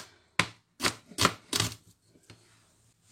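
A knife chops through fern leaves (misili) being prepared for Congolese cooking: four or five sharp, close cuts come in a quick irregular burst, then one lighter cut after a pause, with no talking.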